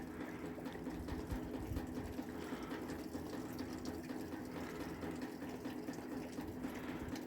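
Water running steadily and leaking under a loading bay into a store, a continuous close trickling and rushing wash with no breaks.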